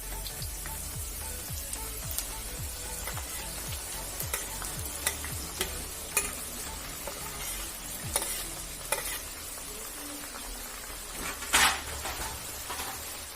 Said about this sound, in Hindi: अब हम लोग जो है इसमें अपनी प्याज को भी धीरे धीरे डाल देंगे